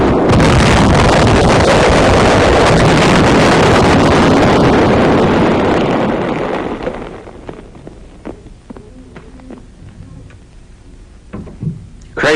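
The 914 mm Little David mortar fires in a military demonstration, a loud, sustained roaring blast on old film audio that fades over several seconds into faint rumbling and scattered thuds.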